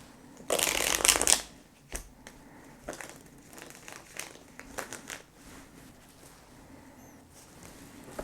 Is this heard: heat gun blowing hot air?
no